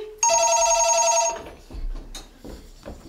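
Telephone bell ringing loudly in a single sustained burst on a theatre stage during a performance of the comedy Rumors, followed by faint shuffling and stage noise.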